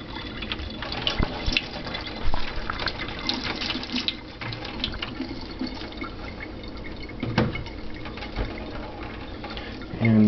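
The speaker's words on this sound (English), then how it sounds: "Give this a quick rinse too." Tap water runs steadily into a sink while an aquarium hang-on-back filter part is rinsed beneath it, with intermittent splashes and knocks over the continuous close flow.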